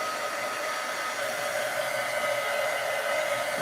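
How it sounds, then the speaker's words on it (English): A hair dryer blowing steadily on a craft piece, a continuous close whooshing hum with no breaks. "I'm giving this a quick dry."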